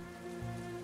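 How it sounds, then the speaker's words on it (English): Rain pours steadily onto city pavement in the World of Goo 2 video game, a dense continuous patter under sustained musical tones, with no voices. "The sky pours down rain like it has a personal grudge. The rhythm of droplets on the pavement echoes through the city's desolate alleyways."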